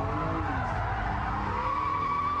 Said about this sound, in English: we've got the rolling into it donut, which needs a little tweak of the handbrake to get rid of any understeer